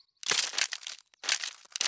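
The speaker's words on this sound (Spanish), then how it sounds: "Los pollitos están rompiendo el cascarón" Chicks break through eggshells that crackle and crunch in two close, crisp bursts separated by a brief pause, with no voices, in a Peppa Pig cartoon.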